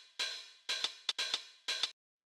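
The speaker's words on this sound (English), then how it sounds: "It's just these hi-hats." Lo-fi house hi-hat pattern built from open and closed hi-hat samples, five bright hissy hits in an uneven groove with short closed ticks between longer open washes, loud and alone before cutting to silence.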